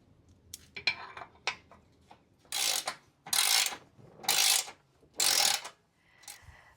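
Bolts on a Jeep's front bumper are tightened with a ratchet, giving several short clicking bursts and then four longer, louder ratcheting pulls at close range, with no talking.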